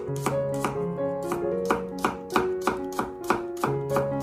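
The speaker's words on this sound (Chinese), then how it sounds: "给它切成蒜片" A kitchen knife slices garlic cloves on a cutting board, about a dozen crisp, evenly spaced chops in a steady rhythm over soft background music.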